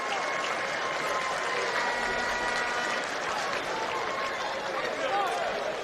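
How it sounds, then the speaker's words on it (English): At a Preston Lions v St Albans Saints soccer match, the home crowd gives a substituted player steady, moderately distant applause, with a commentator talking over it throughout. "gets a warm reception from the home crowd"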